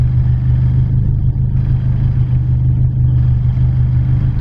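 A car engine idles with a steady, loud low rumble that stays close, the pitch and level shifting only slightly when a little gas is given, with no talk over it.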